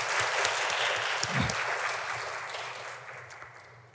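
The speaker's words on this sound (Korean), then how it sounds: "우리 교회 성가대 또 우리 앙상블 여러분들을 위해서 감사와 격려의 박수 한번 드리겠습니다" A church congregation applauds the choir and instrumental ensemble during a Sunday service, a full wash of clapping that starts strong and gradually fades toward the end.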